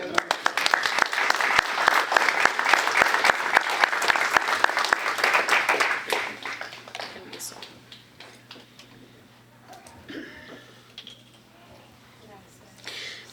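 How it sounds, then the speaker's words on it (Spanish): A Pentecostal church congregation claps for several seconds, dense and lively applause that tapers off into scattered claps, with a few voices audible underneath. "Denle un aplauso al Señor."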